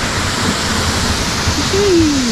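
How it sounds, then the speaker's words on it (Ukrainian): A roughly twelve-metre waterfall in Mykulychyn canyon in the Carpathians roars as a steady, loud, broadband rush of falling water, close by and continuous. "Коротше, метрів 12 десь е, цей водоспад"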